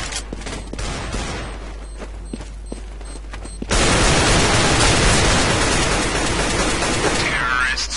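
Dense gunfire from Counter-Strike: Global Offensive on the Dust II map, with rapid shots and clicks at first, then a sustained loud barrage of automatic fire and noise that fills the second half, while players talk.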